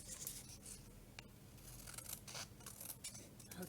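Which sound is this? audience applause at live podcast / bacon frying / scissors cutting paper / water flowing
scissors cutting paper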